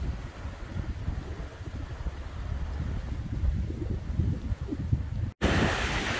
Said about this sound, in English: Very windy coming out of the north, so we've got some pretty big waves